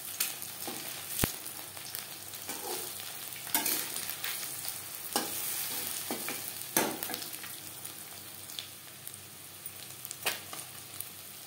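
Coated egg pakoras bubble and crackle in hot oil at close range, a steady frying hiss punctuated by occasional metallic taps and stirring scrapes.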